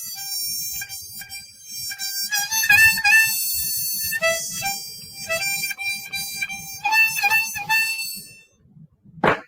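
A C harmonica plays a lively phrase of bright, reedy notes and chords with fast rhythmic breathing pulses, close and clear with no talk, ending in a short sharp noise.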